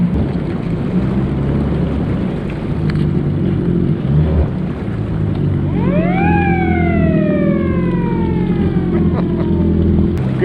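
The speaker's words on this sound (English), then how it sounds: "There's a rope hanging down. Just pull it once for the siren to go off." A lock siren on the Ocklawaha River dam rises and then falls in one long wail, heard over a steady loud engine rumble from idling Yamaha WaveRunner jet skis.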